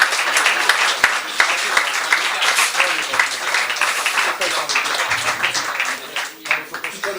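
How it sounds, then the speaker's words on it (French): An audience aboard a boat venue applauds loudly and continuously, a close, dense clatter of many hands with a few louder individual claps that eases off slightly toward the end. "Merci, on peut l'applaudir, mais pas trop fort."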